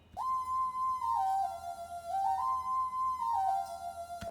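A whistle sample in a music track plays a clear, sustained tone that steps between a few pitches in a simple repeating phrase, alone and fairly quiet.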